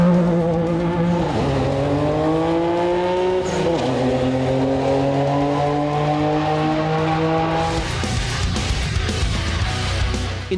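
A Nissan R33 Skyline GT-R with stock turbo accelerates hard down a drag strip, its loud engine rising in pitch through the gear changes, and the roar stays close and continuous.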